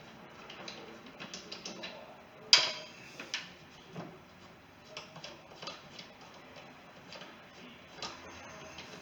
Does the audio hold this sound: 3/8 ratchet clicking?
yes